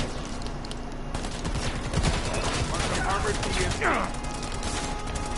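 Rapid bursts of gunfire in a multiplayer shooting game aimed at an enemy sniper, loud and dense throughout with a short voice heard under the shots.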